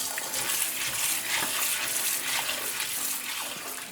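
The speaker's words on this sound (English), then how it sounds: "Drain this water." Rinse water drained off washed dal for dhalpuri roti, a steady splashing, pouring flow of water, close and continuous for several seconds with no talk.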